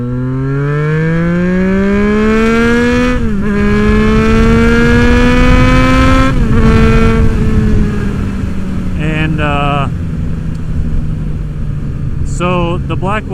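Yamaha FJ-09 motorcycle fitted with a Black Widow exhaust revs loudly and steadily up close, its pitch climbing and dipping through several throttle swells before a few sharper blips near the end.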